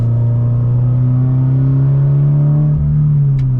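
A 2016 Scion FR-S with a 4-cylinder engine and six-speed manual pulls hard under acceleration, its engine note rising steadily in a loud, continuous rev heard from inside the car.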